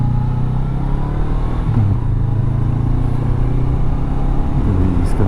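A Honda CB500X motorcycle climbs uphill in first gear on an Italian road, its engine droning loud and steady with a low rumble and some wind noise throughout.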